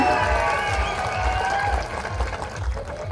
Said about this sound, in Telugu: ఒక్కసారి గట్టిగా చప్పట్లతో స్వాగతం.